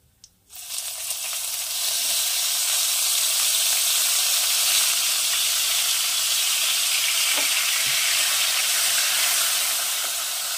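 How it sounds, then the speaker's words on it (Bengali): Onion paste drops into hot oil seasoned with small cardamom and a bay leaf for duck egg do pyaja, bursting into a loud, dense hissing sizzle that holds steady for several seconds with an occasional faint stir. "এটাকে খুব ভালো করে একটু কষিয়ে নেবো প্রথমে।"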